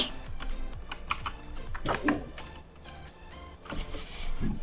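Quick runs of keystrokes on a computer keyboard as a command is typed during a Minecraft-style survival game, close and crisp clicks in short bursts with brief pauses.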